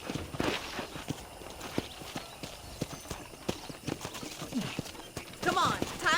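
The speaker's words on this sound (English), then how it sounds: "I picked out a fine horse for you." Horse hooves clip-clop at a steady walking rhythm in a Red Dead Redemption ranch scene, close and distinct, with a brief neigh near the end and a voice speaking over the hoofbeats.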